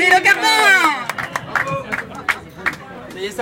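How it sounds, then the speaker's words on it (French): Applause from an event audience thanking a sponsor at a volunteer and partners gathering: a short scattering of claps and crowd noise under a loud voice speaking into the room. "On applaudit le Carmont."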